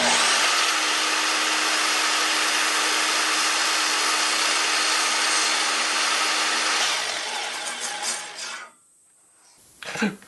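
A power tool cuts through a small wooden blank for a Galaxy 6 smartphone case, a loud steady buzzing whine that eases after about seven seconds and stops, followed by a brief scrape.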